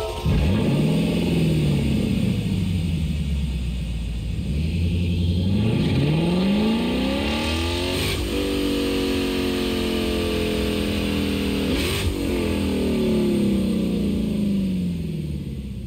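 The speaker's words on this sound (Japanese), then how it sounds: "それではまずレクサス LC500 のノーマルのエンジン音を聞いてみましょう" A stock Lexus LC500 engine in Gran Turismo 7 revs up and down repeatedly, its pitch climbing and falling in smooth sweeps, loud and continuous with no talk.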